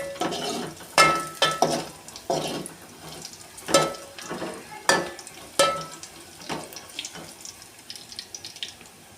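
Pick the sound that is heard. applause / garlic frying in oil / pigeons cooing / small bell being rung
garlic frying in oil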